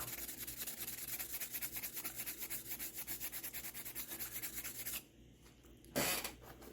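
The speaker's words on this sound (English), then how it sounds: "Hit it with some Scotch-Brite. You can hear a lot of heavy rust still on there." Scotch-Brite pad scrubbing a heavily rusted fixed-blade knife, rapid rhythmic rasping strokes for several seconds, then a pause and a brief louder scrape.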